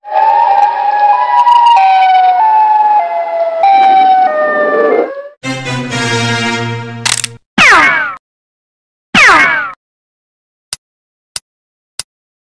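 A wailing Siren Head siren from a video game rises and falls in steady sweeps, followed by buzzing tones, two sharp descending whooshes and a few isolated clicks.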